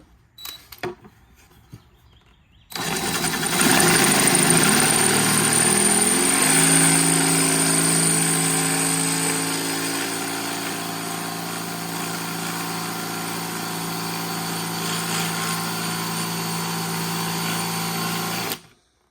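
A power drill fitted with a fresh bit tries to back out stuck screws, starting after a few light clicks and then whirring loudly and continuously, its motor pitch dropping and settling into a steady drone.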